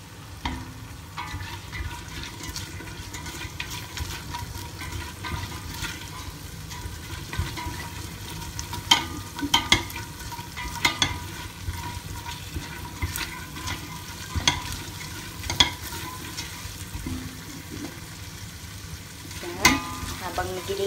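Oxtail with onions and garlic sautés in a pan with a steady, moderate sizzle. Frequent sharp clicks and scrapes of stirring punctuate the frying hiss throughout.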